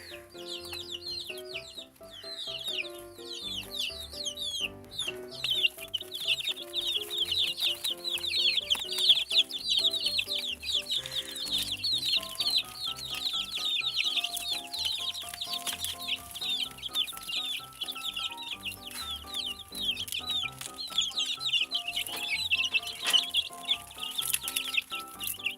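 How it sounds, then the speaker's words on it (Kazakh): Young chicks chirp and peep continuously in a dense, high-pitched chorus throughout, with occasional soft clucks from fowl nearby, steady and fairly loud with no talking. "Міне мынау біздің балапандар."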